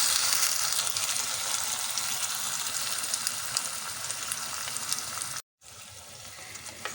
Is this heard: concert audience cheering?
no